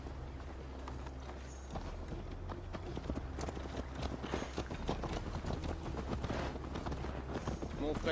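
Horse hooves clip-clop in a steady riding rhythm in Assassin's Creed Valhalla, continuous and fairly close, joined by low game ambience and occasional voices talking over the ride.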